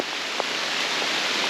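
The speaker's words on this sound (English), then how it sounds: "it is pouring down rain now" A steady, dense hiss of heavy rain pouring down in a wilderness, with a few faint individual drops standing out.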